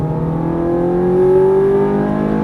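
A Ferrari F430 or Nissan GTR accelerating and shifting up, with a loud, close engine tone that climbs steadily in pitch for a couple of seconds.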